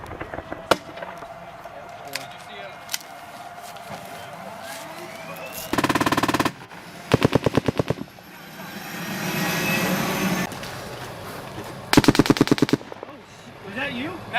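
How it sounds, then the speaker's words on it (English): Automatic gunfire in a Marine firefight with insurgents at an insurgent stronghold, with several loud sustained machine-gun bursts and scattered single shots over a droning aircraft engine, with voices talking in between. "Somebody's shooting that way."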